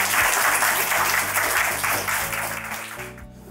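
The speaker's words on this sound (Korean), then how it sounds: "우리 서로 환영하는 박수 한번 크게 쳐주면 어떨까요?" Youth participants at a patriotic history expedition induction ceremony give welcoming applause, loud close clapping that fades toward the end.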